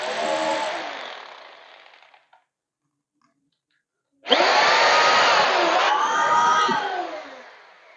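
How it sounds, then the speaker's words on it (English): A power drill whirs loudly, winds down and stops, then after a few seconds of silence starts again, revving up and down before tapering off. "So let me connect my drill and connect this drill."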